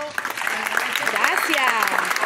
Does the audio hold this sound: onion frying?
no